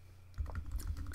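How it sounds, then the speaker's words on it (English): Keys clatter on a computer keyboard as a name is typed into a Mac OS X search field, a quick close-up burst of clicks heard alone with no talking. "I simply type the name of the application"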